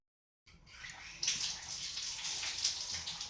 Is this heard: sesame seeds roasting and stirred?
no